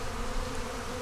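Honey bees hum in a faint, steady buzzing drone around an open hive, heard very briefly and at low level.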